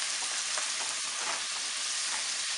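Cabbage with collard green spice sautés in a pan for smothered cabbage with smoked sausage, making a loud, even, crackling sizzle broken by light periodic scraping from stirring, with no voices.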